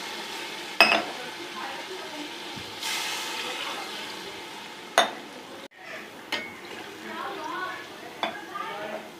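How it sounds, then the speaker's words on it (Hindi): Water poured glass by glass into a big pot holding 1.5 kg of rice for chicken and pea pulao. Intermittent splashing bursts mix with clinks of cookware, and a voice murmurs faintly in the background. "अब हम इसमें पानी लगाएंगे तकरीबन 6 गिलास"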